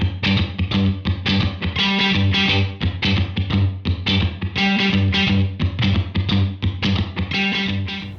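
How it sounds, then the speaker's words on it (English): Distorted electric guitar playing a rhythmic riff through a Logic Chromaverb Amp Room reverb that gives a room-mic effect, loud and choppy with short repeated strums and brief gaps. "if I put it on that reverb sound and crank it up a little bit, you're gonna hear that same sort of room mic effect"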